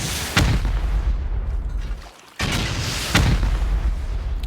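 Rocket and C4 explosions during a solo base raid in a video game, three heavy booming blasts spaced about a second apart over a continuous rumbling backdrop, with a brief lull between the second and third.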